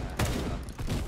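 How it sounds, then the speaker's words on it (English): Gunshots in the Roblox game Da Hood, a quick cluster of loud overlapping game gunfire bursts in about a second. "I'm shooting another one."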